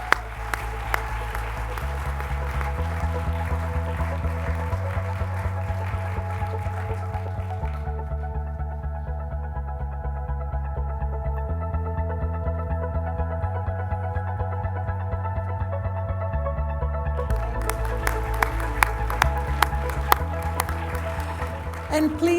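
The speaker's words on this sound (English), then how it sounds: "please, just another round of applause for these exemplary psychiatrists" Audience at a convocation ceremony applauding at length, steady clapping laid over stately organ-like music with shifting chords that thins out midway, then swells back.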